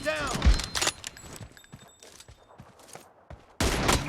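Gunfire in PUBG team deathmatch: sharp bursts of shots, loudest at the start and again near the end, with quieter clicks and footstep-like taps between them.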